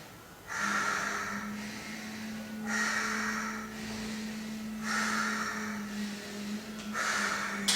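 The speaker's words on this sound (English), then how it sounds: "Ujjayi breathing, which we do here." Ujjayi breathing during yoga practice: slow, deep breaths drawn through a constricted throat, each a long hissing, ocean-like rush, repeated in an even cycle of four or five breaths, close and alone over a faint steady hum.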